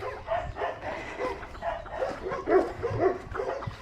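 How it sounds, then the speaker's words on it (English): Several dogs bark and yip in quick, uneven bursts, sounding somewhat distant, with a few whimpering notes mixed in. "I don't know what the dogs are barking at."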